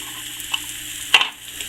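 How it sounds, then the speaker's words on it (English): Frozen patties and corned beef sizzle on a griddle at a deer camp, a soft steady frying hiss with a few scraping stir sounds breaking through. "I put a couple patties on the griddle that I use up here at Deer Camp"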